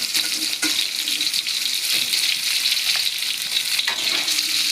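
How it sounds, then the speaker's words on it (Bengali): Ridge gourd pieces frying in a pan, a steady close hiss of sizzling oil with occasional stirring clicks and scrapes throughout. "ঝিঙেগুলো এখন ছেড়ে দিচ্ছি।"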